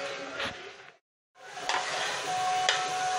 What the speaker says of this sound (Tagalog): magigisa tayo ng ating bawang, sibuyas, at saka yung ginger or luya